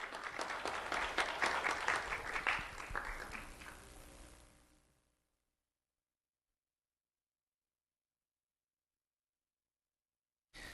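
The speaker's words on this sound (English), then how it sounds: "Let's have a round of applause for Jasmine Martinez." Applause from an audience at a sheriff's office recognition event for a student, steady clapping for about four seconds that fades out into silence, with a brief return of sound at the very end.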